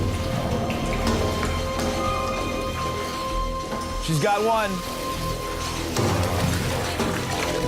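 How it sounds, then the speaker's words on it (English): Water drips and runs steadily inside a cold, dark tunnel, a constant wet patter close around, with voices talking over it. "It's cold. You can hear the water."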